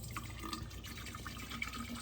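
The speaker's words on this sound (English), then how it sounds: "So we're gonna fill this up and get it going, pour it in there." Water is poured into an ALDI camping appliance, making a faint, continuous trickling and splashing fill that stays soft and close throughout.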